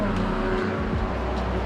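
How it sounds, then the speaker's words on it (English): A car drives by on the road outside a woodworking shop, a soft, muffled passing swell rising and fading over the steady roar of shop fans. "a car drove going down the road"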